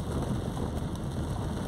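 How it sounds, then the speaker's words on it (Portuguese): Heavy rain pours steadily in Fortaleza, Ceará, near the Colégio Militar in the Aldeota neighborhood, a dense, loud, unbroken hiss of downpour with no voices. "Muita chuva neste momento."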